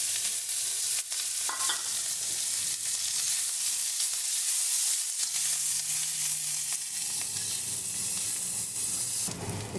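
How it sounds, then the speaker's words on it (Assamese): Sliced onions fry in a hot pan with a dense, steady sizzle and hiss, broken by occasional scraping stirs of a utensil, loud and close with no talk. "পিঁয়াজখিনি দিলোঁ"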